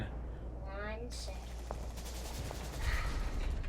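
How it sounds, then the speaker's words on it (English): Scattered gunfire and muffled explosions crackle in the distance beneath a voice speaking, with a louder burst of shots near the end. "It's more explosions And gunfire. and grenades"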